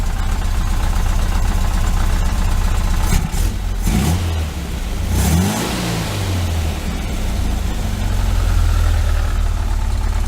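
A 1973 Volkswagen Super Beetle's air-cooled engine with a Dellorto FRD 34B carburetor idles loudly nearby, then revs up a few times and falls back to a steady idle.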